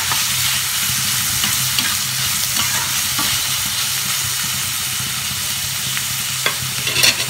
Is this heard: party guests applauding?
no